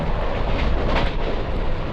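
Train passing through Motumarri railway junction station, a broad steady rumble with rolling wheel noise holding at an even, fairly loud level throughout, no voices.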